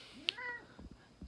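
A house cat gives one short, sharp meow up close, followed by small quiet rustles and soft sounds of movement.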